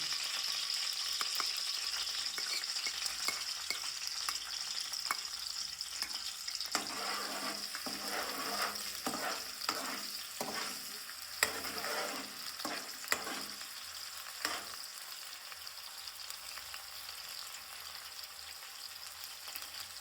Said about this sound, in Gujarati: તો આપણે હવે લીલા મરચાં જે કટિંગ કર્યા હતા એ આપણે એડ કરી દઈશું પહેલાં.